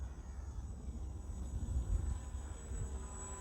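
A radio-controlled Twisted Hobbies model plane flying overhead at a distance: a faint, continuous electric motor whine with a low wind rumble that swells and fades as it passes.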